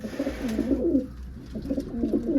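Pigeons coo in low, throaty, rolling phrases, two bursts close by, with faint background hiss.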